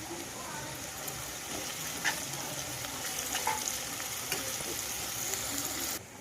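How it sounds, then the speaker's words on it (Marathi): Curry leaves hit hot oil in a pan while a Konkani-style fish curry is being cooked, giving a steady close sizzle with scattered sharp crackles that cuts off abruptly near the end. "त्याच्यानंतर कढीपत्ता टाकतोय आपण"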